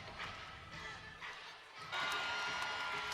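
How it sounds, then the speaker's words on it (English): Arena crowd cheering and roaring at a tight Rutgers college basketball game in the final seconds, a steady loud din that swells louder near the end, with faint commentary mixed in. "Crowd is rocking here."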